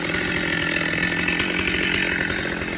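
Chainsaw cutting a large rain tree over 300 cm around, the engine droning steadily at high revs, loud and close with no pauses.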